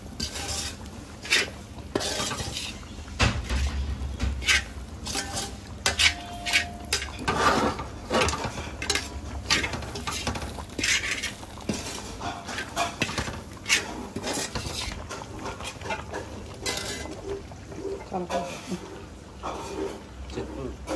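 Masala is stirred in a kadai pan with repeated scraping and clinking of a spoon against metal, with soft sizzling underneath and occasional talk nearby.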